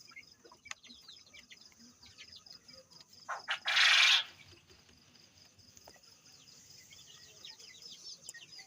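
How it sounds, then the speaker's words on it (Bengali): Female quail in a coop give a steady chatter of soft, high chirps and clucks, with a brief louder rustle or flutter midway; a faint insect-like buzz runs underneath. "এগুলো হচ্ছে মহিলা কোয়েল পাখি।"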